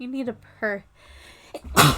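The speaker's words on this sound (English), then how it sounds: "Oh no, I feel a sneeze coming on." A single loud, close sneeze bursts out near the end, following a few short spoken phrases from a woman.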